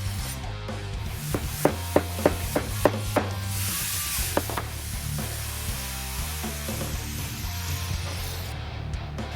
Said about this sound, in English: hammering down these seamed edges from the stitching